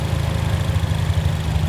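A 2016 Ford Focus ST turbo with a six-speed manual idles smoothly, giving off a steady, even low hum and a fine rhythmic pulse up close.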